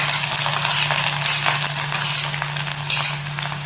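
Garlic, green chili and ginger sizzle steadily in hot oil in a pan while making grape pickle, with a continuous close frying crackle, a few faint stirring clinks and a low steady hum underneath.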